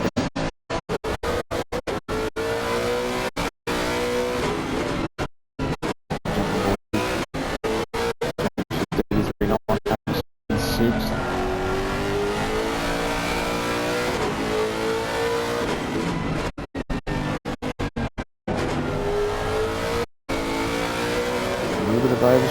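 GT3 race car at speed around the Valencia circuit, its engine revving up and down through gear changes with brief cuts between shifts, loud and close, with a commentator talking over it.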